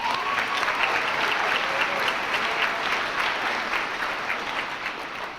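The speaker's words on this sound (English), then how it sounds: "Let's also have a round of applause for all of our parents and guardians" Audience applause at a high school graduation ceremony, a dense, steady roar of many hands clapping that holds for several seconds and tapers slightly at the end, with no talk over it.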